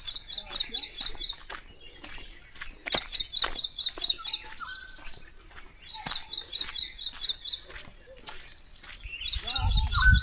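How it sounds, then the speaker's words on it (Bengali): Small birds call in a wooded spot near Ghatshila, repeating quick, high, bright trills in regular bursts with scattered softer chirps between them, close and clear against a quiet background. "কত সুন্দর জায়গাটা, আর তার সাথে পাখির শব্দ, পাখির ডাক, কলরব,"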